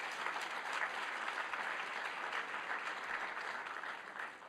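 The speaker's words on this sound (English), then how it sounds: "Let's give another round of applause" An audience at a board of education general meeting gives another round of applause during an Excellence in Service recognition, a steady dense clapping that carries through the whole clip at moderate volume before tapering slightly at the end.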